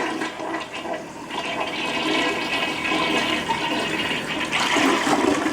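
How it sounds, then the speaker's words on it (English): A toilet flushes after a slow drain was cleared with a toilet snake auger, a loud, close rush of swirling water that builds and keeps churning for several seconds. "So I'm going to flush the toilet."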